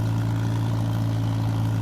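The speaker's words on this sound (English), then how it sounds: "This tractor pulls along real nice." A 1950s farm tractor engine runs at a steady idle-like drone, loud and close with a constant low throb and no talking.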